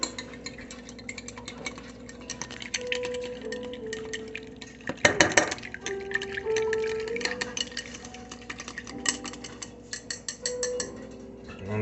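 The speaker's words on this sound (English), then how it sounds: "let me use my whisk" One large egg whisked in a bowl: quick, rhythmic ticking clinks of the whisk against the bowl, close and moderately loud, with a brief louder clatter midway.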